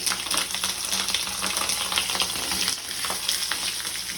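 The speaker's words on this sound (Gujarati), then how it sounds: "મરચા આપણે જો આવી રીતના તવામાં જ બનાવશું, બાફશું નહીં, ધીમા ગેસે જ મૂક્યું છે તેલ જ" Stuffed green chillies fry in oil in a pan on a low flame, giving a steady dense sizzle and crackle that continues evenly throughout, close and fairly loud, with no talking.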